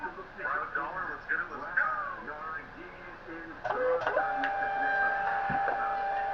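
A small thermal label printer runs in bursts, its steady whirring feed tone stretching through the second half, while a person talks quietly over the earlier part.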